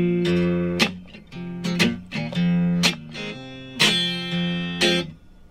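Blues guitar strummed in a steady pattern, chords ringing out in several loud bursts with short gaps between them, played alone with no talking.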